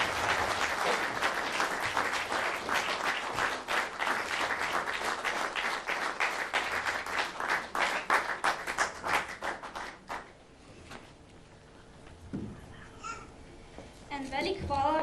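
An audience at a Women's Day event in Kapele applauds loudly and steadily for about ten seconds, then the clapping fades out and a few scattered sounds follow in a quieter room.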